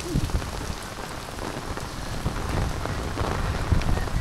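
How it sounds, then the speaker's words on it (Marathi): Heavy monsoon rain during a thunderstorm in Maharashtra, a steady dense patter of drops on surfaces with a faint low rumble underneath, continuous and fairly close, with no voices. "लय पाऊस पडायला लागला"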